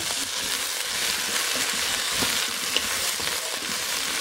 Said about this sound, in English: my onions, my carrots, all that is pretty well done. I just wanted to put the potatoes in to brown them just a little